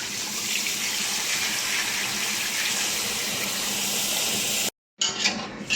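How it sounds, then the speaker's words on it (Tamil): Water poured from a tap or vessel into a pot of potato masala for puri kilangu, a continuous loud gush that runs steadily, cuts off abruptly near the end, then briefly resumes. "3 லிட்டர் தண்ணி சேர்த்துக்கலாம்"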